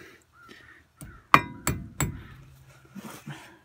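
A hammer taps on parts during a U-joint and wheel bearing install on a 1997 Jeep XJ axle, three sharp, close metallic strikes followed by a few softer knocks.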